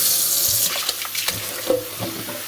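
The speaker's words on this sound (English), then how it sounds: "we are going to rinse these fillets just like so" Tap water runs into a kitchen sink while salted cod fillets for bacalao are rinsed, a loud steady gush at first that thins into splashes and trickles as the fillets are handled.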